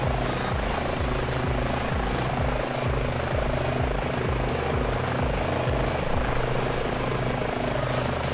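An H145 helicopter idling in Microsoft Flight Simulator 2020 gives a loud, steady turbine whine over a rhythmic rotor thump that runs unbroken throughout, with no talking.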